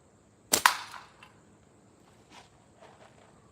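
A slingshot shot fired with a long draw strikes a can: two sharp, close metallic cracks in quick succession, then faint rustles and small knocks over quiet outdoor background.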